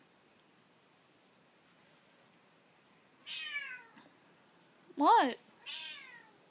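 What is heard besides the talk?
pet cat meowing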